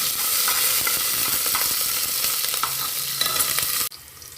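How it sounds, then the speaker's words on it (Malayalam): Sliced onion and garlic fry in a hot pan for sambar rice, giving a steady loud sizzle with scraping stirs of a spoon throughout, then cutting off abruptly near the end. "നമ്മൾക്ക് എടുത്തു വെച്ചിരിക്കുന്ന സവോളയും നമ്മുടെ വെളുത്തുള്ളിയും കൂടി ഇട്ട് കൊടുക്കാം അതൊന്ന് വാടി വരട്ടെ നിളക്കി കൊടുക്കാം"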